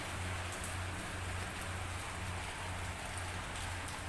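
Heavy monsoon rain pours down steadily outdoors as a dense, continuous hiss, close and loud, with no pauses and no voices.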